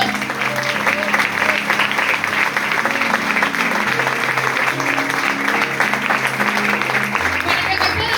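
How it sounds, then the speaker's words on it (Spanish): Loud, sustained congregational clapping at a Spanish-language church service, mixed with music, with tones and chords running underneath throughout. "dale un aplauso al Señor"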